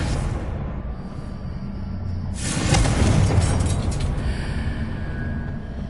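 A Confringo spell explosion in Hogwarts Legacy: a deep, broad boom that swells after a couple of seconds and then rumbles down slowly into a dense background roar.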